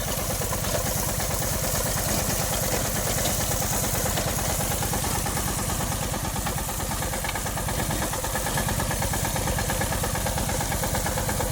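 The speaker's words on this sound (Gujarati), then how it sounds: "મિની ટ્રેક્ટરથી વાવીએ ભાઈ ઘઉં" A mini tractor engine sowing wheat chugs steadily and loudly throughout, a continuous mechanical drone with rapid regular pulsing and no voices.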